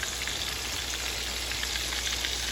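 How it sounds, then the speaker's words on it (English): Salisbury steak patties browning in hot grease in a pan give a steady, dense sizzle with fine crackling pops, close and even throughout with no talk. "we got the Salisbury steak patties in the grease, and we're gonna brown them on both sides"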